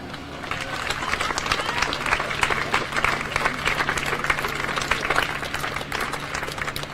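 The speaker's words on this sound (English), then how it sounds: "So just give yourself a round of applause." Crowd applause and cheering at an outdoor encampment rally in Minneapolis, a moderate stretch of clapping mixed with scattered shouts and voices, steady throughout over a low background hum.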